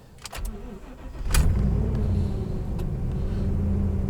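A cold gas pickup truck engine cranks and fires in 20-degree weather, a few short clicks first, then the starter catches and settles into a steady, loud rumbling idle close by.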